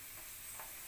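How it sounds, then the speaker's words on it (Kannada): Spices and eggplant are frying in a pan with a faint, steady sizzle and one brief stirring scrape, close and quiet, with no talk. "ಇವಾಗ ಇದು ಫ್ರೈ ಆಗಿದೆ ಚೆನ್ನಾಗಿ"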